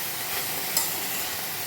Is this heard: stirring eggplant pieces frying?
yes